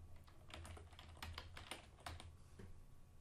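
Rapid keystrokes on a computer keyboard as a project name is typed into desktop software, a quick irregular run of soft close clicks with no talking.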